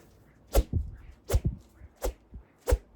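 A Li-Ning Bladex 900 badminton racket cuts through the air in four quick, sharp swishes at roughly even intervals, each followed by a softer low thump, close and alone.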